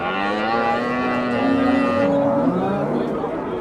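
A cow at a livestock market lets out one long, loud, close moo that rises and then trails off, with faint crowd murmur around it.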